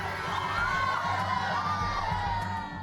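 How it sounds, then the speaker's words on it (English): A crowd of local fans in the small town of Palopo cheers and shouts for the arriving Le Soléal cruise ship, with excited children's voices and whoops forming a continuous loud din. "Le Soleal has drawn a crowd of local fans."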